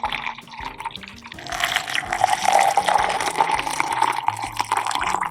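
Water pours onto matcha powder with a continuous close trickle that builds into a fuller splashing stream, alone and at moderate loudness.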